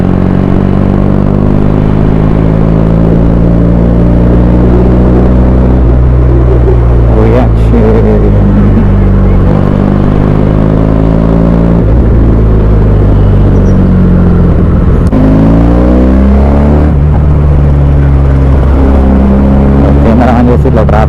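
Road traffic in Hanamkonda, Warangal, with a Benelli 300i fitted with an SC Project exhaust among it: a loud, steady engine rumble and whir, revs rising and falling in several passes, with passing vehicles and a voice talking over it.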